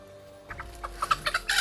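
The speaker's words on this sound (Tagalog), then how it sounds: "Parang takot na takot talaga yung manok sa iyo, Tang, ba?" A chicken clucks nearby in a series of short, uneven clucks that grow louder and quicker toward the end, over a quiet background.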